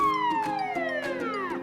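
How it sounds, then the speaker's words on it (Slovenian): Fire engine sirens wail loud and close, a falling electronic tone sweeping down with rapid pulsing, no voices. "Pridrvijo gasilska vozila, sirene tulijo in luči zavijajo."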